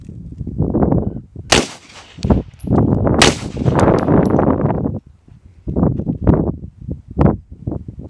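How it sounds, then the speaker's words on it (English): Rifle shots fired at a Division Armory III+ standalone armor plate during an outdoor torture test ring out as a few sharp, loud cracks with metallic clangs, separated by bursts of someone talking nearby. "I'm gonna take a couple more shots and bring my shots up higher."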